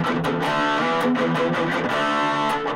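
Electric guitar through a Blackstar FLY 3 amp with gain turned fully up, heavily distorted chords and picked notes played continuously, close and saturated.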